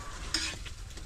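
Food fries in a pan with a soft, quiet sizzle. A brief clink of a utensil stirring against the pan comes partway through, and no one talks.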